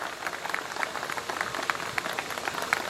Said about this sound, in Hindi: इनके लिए जोरदार तालियां बजाइएगा।